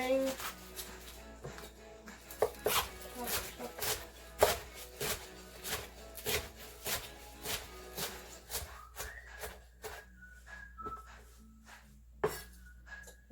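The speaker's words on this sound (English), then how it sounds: "I'm going to keep chopping these up because I have a lot in here" A knife chopping kale on a cutting board in a home kitchen, a steady series of sharp, close knocks in irregular rhythm running throughout, with a few faint tonal sounds in the background.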